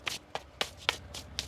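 Tarot card deck being shuffled by hand, about six quick, crisp bursts of cards riffling and slapping together in an even rhythm, close and alone without talk.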